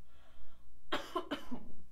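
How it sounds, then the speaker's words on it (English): Two sharp, close coughs in quick succession from one person, loud against a quiet room. "1 second, I'm going to cough."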